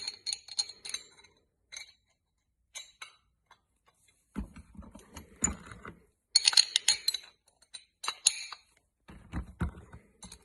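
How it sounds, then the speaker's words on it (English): Steel bolts go into a straight cut planetary gear assembly from a DSM W4A33 transmission: close, crisp metallic clinks and ticks in short bursts separated by pauses, with a few duller knocks against the housing. "Let me just rotate this top one around until the holes line up. Put your bolts in."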